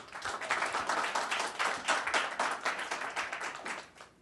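The audience at a construction-industry breakfast forum applauds after a lecture by a former ambassador to Ukraine, a sustained crowd of clapping hands with a rippling texture that tapers off near the end.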